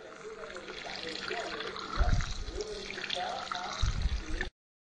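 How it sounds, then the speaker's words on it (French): Coconut milk and mango hair cream being whisked in a bowl set over cold water, a steady wet swishing and splashing throughout, with two louder bursts of agitation near the middle and end. "je vais fouetter dans de l'eau froide pour refroidir la préparation"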